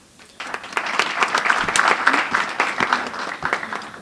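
An audience at a scholarship event for young achievers breaks into applause that swells quickly after a quiet start, then carries on as moderately loud, fairly sparse clapping with distinct individual hand claps throughout.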